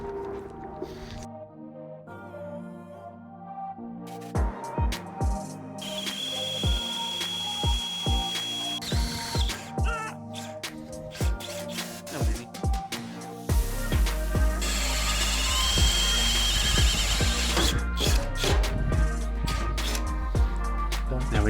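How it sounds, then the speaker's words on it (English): A drill bores holes into a truck bumper for mounting off-road lights, with bursts of drilling, clicks and tool handling, then a loud sustained whine with a low hum near the end. "get this bumper drilled so we can get these mounted"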